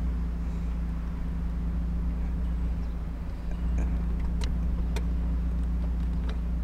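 A struggling car's engine idles as the driver lets out the clutch, with a faulty clutch slave cylinder or throwout bearing; a steady low drone continues throughout with a few faint clicks near the end.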